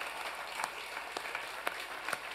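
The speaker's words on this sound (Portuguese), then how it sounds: "Os irmãos querem dar uma salva de palmas a Jesus, porque Ele é digno." Faint, scattered clapping from a church congregation during a communion service, with a few sharper individual claps standing out over a soft wash of hands.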